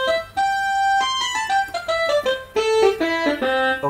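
Saxophone voice on a Casio CT-655 keyboard plays a quick run of about a dozen bright reedy notes in an uneven melodic phrase, loud and close, no talking.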